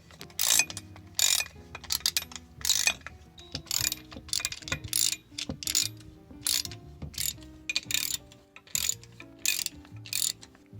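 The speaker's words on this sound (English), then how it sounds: "and now you just bolt it in." Bolts are ratcheted in to mount a trailer jack onto a camper, giving close, rhythmic bursts of ratchet clicking with short pauses between strokes and no voices.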